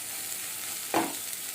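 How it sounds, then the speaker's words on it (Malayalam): Sweet corn fries in a pan with salt and turmeric, a soft steady sizzle running throughout with one brief louder scrape or stir near the middle, quiet and close with no talking. "കുറച്ച് മഞ്ഞൾപ്പൊടിയും ഇട്ട് ഒരു 2 മിനിറ്റും കൂടി നമുക്കൊന്ന് ഫ്രൈ ആക്കി എടുക്കണം"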